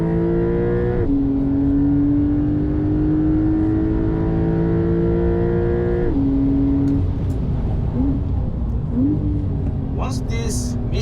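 A Porsche 992 Carrera S driving laps on a racetrack gives a loud, sustained engine drone that rises steadily in pitch through the gears, with two shifts and brief dips before it climbs again.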